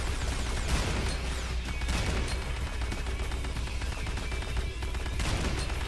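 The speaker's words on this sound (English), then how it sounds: "Would you select the chain gun so I can kill these guys?" Chain gun in Command & Conquer: Renegade firing a sustained burst, rapid continuous rattling shots with impacts, loud and unbroken for several seconds with no voices.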